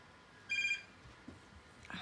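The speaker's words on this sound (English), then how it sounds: "And there's the phone." Household telephone ringing indoors, one short electronic ring burst, moderately faint, followed by quiet room noise and small clicks.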